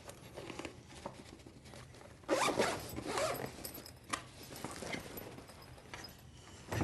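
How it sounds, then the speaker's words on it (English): A zipper on a tote bag is pulled open in several quick runs, with the loudest rasping burst midway. It sounds close and dry, with light handling rustle between the pulls and no talking. "unzip the tote bag"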